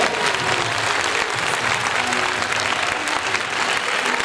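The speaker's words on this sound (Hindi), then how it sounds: "सो आपकी तालियां बहुत सी तालियां" A crowd claps steadily, dense and loud, the applause holding at an even level throughout.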